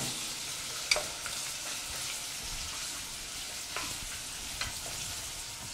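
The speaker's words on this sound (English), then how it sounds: "I'm going to add a little bit of some chopped onion and kind of brown that" Chopped onion sizzles and browns in a pan, a quiet, steady frying hiss with a few light clicks as it is stirred.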